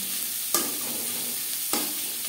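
Chopped onions frying lightly in a pan for a mutton and potato curry, a steady quiet sizzle marked by two distinct scraping stirs about a second apart.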